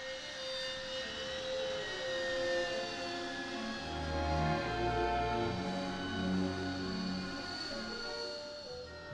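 A Royal Air Force Harrier jet's engine roars and whines with a layered, shifting turbine tone that swells to a loud peak midway and then holds steady, with no talk.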